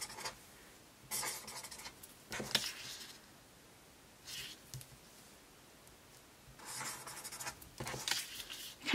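A pen scratches across scrap paper in a quiet room, with several short bursts of strokes separated by pauses, close and faint.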